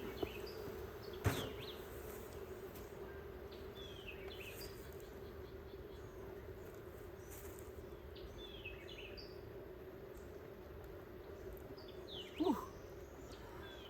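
Honey bees in an opened backyard hive, producing a steady low hum throughout, with a few brief insect flybys and faint bird calls in the background.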